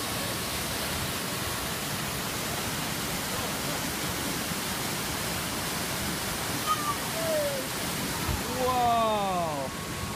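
Man-made waterfall at California Adventure, a dense steady roar of falling water filling the scene throughout, with a person's voice briefly rising over it near the end.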